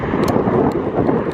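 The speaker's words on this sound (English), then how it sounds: "the wind is kicking up here" Gusty wind of around 20 mph buffets the microphone near the Woolsey wildfire in California, a steady broadband roar with a few stronger bursts, heard alone.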